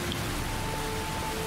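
Steady rain falling on a street in the video game Heavy Rain, an even hiss of drops that stays constant and fairly close for a brief moment, without voices.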